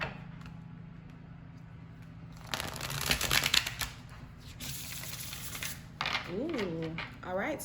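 Tarot cards shuffled by hand in a broad riffling burst of a few seconds, close and moderately loud, with softer handling noise before and after and a voice speaking over the later part.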